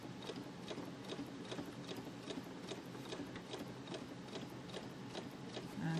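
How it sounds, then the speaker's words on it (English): A sewing machine stitches quilt fabric held against a guide, its needle ticking in a fast, even mechanical rhythm that runs on steadily and quietly with no talking. "I keep it up against that guide, and then I just keep sewing"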